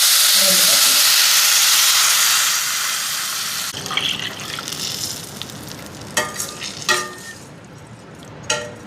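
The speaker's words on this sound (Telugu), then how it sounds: "ఈ కలర్లో వచ్చాక వాటర్ వేసుకోవాలి" Water hits roasted vermicelli in a hot pan for semiya kesari, giving a loud burst of hissing steam and sizzle that fades over a few seconds into quieter bubbling, with a few sharp clinks at the end.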